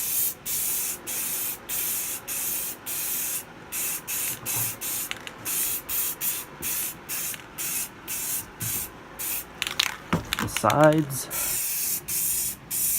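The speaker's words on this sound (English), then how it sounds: "So, paint it. Just a light coat for now." Spray paint goes on in a light coat during a shed stereo build, a close series of rapid, evenly pulsed hissing bursts, with a voice speaking briefly near the end.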